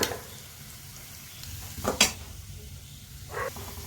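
Chili powder and masala are stirred in a hot pan for a tomato and potato curry, giving a low sizzle with scraping stirs and a couple of sharper clinks.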